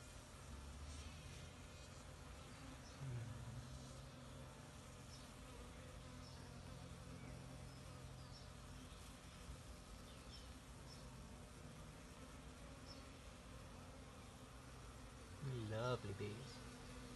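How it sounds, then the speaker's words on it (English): Bees buzz steadily around a hive as a beekeeper works to save stragglers, a continuous insect drone throughout with a brief louder burst near the end. "Lovely bees."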